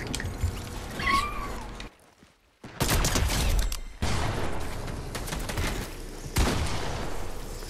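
Rapid bursts of gunfire in the Fortnite video game, crackling fairly close, broken by a brief silent gap before the shooting resumes and continues steadily.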